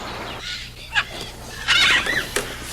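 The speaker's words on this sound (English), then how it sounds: "This is a very nice parrot." A cartoon parrot squawks in short harsh bursts, one sharp call near the start and a longer raspy squawk later, with a faint background hum underneath and no talking.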